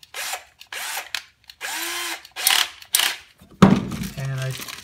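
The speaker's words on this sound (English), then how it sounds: "I have this tool right here that I use to auger out the rest of the hole" A pneumatic tool augers out the rest of a hole for a nutsert, giving short repeated bursts of whirring drill whine separated by brief pauses, with a final rattling spin.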